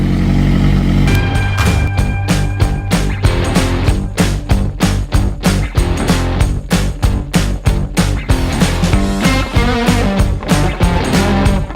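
A Suzuki GSX-R 600 motorcycle engine running after an oil and filter change, giving a loud, even, rapid pulsing idle that holds steady throughout with no talking.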